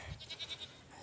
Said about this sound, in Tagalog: Ayun yung sinasabi ko mga kambing pa natin oh.